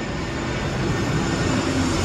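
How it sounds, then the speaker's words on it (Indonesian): A loud, steady roar of an airplane engine fills the air continuously, broad and rumbling, with no voices. "Suaranya pesawat itu."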